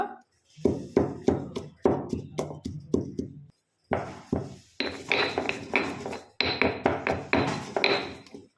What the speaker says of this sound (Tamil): நல்லா இந்த மாதிரி தட்டினாலே இடிபட்டுருவோம்ல